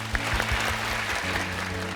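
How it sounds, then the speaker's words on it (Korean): A short burst of applause from a small TV studio audience, scattered claps over a low steady hum. "박수 한번 주실까요?"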